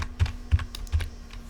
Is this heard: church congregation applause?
no